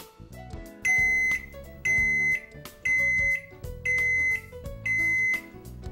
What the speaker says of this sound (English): the home bakery beeps to let you know that your bread is finished baking.